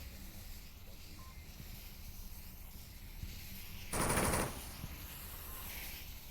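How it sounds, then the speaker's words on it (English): A short burst of rapid automatic gunfire sounds in the VR shooter game Onward. The half-second rattle rises above a constant noisy game background, with no talking. "Uncle Sam putting down some shots onto something."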